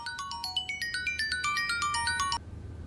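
A phone ringtone plays a quick, bright melodic pattern of repeating electronic notes for about two and a half seconds, then cuts off abruptly into quiet room tone.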